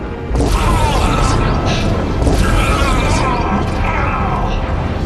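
A loud, sustained rumbling blast with dense crackling debris fills the whole stretch, steady and overwhelming after a sudden onset.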